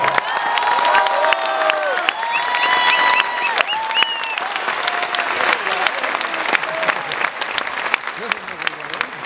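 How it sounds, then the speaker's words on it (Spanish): A large crowd at a concert in Santiago, Chile claps and cheers loudly and continuously, with whoops and shouts rising over dense applause. "Niños de Santiago con un gran aplauso."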